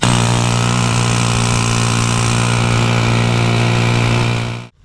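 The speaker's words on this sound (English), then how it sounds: "Air chisel. Let's see if we can get the middle out." Air chisel hammering at a part on a Mk3 Vauxhall Cavalier 2.0 16v, a loud, continuous buzzing rattle that holds steady for several seconds before cutting off abruptly.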